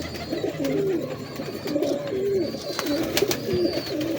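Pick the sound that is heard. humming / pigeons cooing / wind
pigeons cooing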